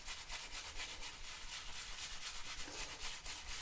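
A shaving brush whips Antiga Barbearia de Bairro Chiado shaving cream into lather, giving a close, steady rapid swishing and rubbing in quick rhythmic strokes, quiet and continuous with no talking.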